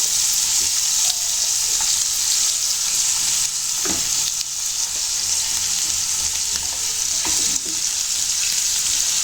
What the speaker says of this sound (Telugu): ఫ్రై అయ్యేదాకా ఇలాగే చేసుకోవాలి. 2-3 సార్లు తిప్పుతూ ఉండాలి.